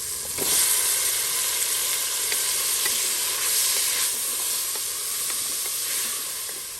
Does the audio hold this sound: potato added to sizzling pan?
yes